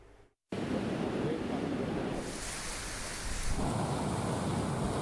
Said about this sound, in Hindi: सुबह 6:30 बजे से वहां पर बरसात हो रही है और तेज हवाएं चल रही हैं